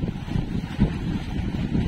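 Strong wind buffets the microphone in a constant low rumbling roar, steady throughout with no voices.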